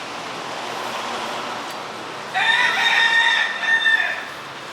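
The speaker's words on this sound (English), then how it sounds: "More chickens." Chickens clucking close by, joined midway by a rooster crowing loudly over steady outdoor background noise in a Key West setting.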